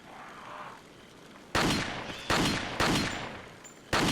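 Gunfire in the Resident Evil 4 video game: four loud, sharp shots with reverberant tails ring out after a quieter stretch of game ambience, spaced unevenly over a few seconds.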